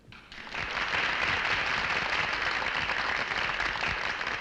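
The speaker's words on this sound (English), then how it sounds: "Listen to the audience applaud." Steady, dense audience applause in a film, starting abruptly and holding as a continuous wash of many hands clapping, no voices over it.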